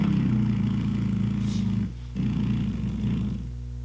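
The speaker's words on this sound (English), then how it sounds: "A dragonfly sounds like this." A dragonfly's wings make a steady, low droning buzz that breaks off for a moment and then resumes, close and continuous, with no voices.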